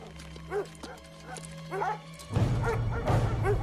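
Several dogs bark in short, sharp bursts that grow louder and busier as they draw closer, with a rushing noise joining midway.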